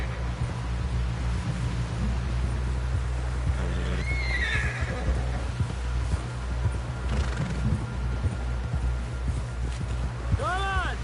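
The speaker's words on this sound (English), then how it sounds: "Someone help John down off this horse." A horse neighs loudly in the Red Dead Redemption 2 video game, with steady hoofbeats and a continuous low rumble of ambient game sound throughout, and a rising whinny-like call near the end.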